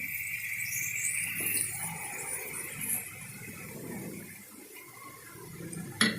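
Water poured from a small glass into a cooking pot of pumpkin dal on a full flame, a steady continuous trickle and splash lasting several seconds, ending with a sharp clink of the pot near the end.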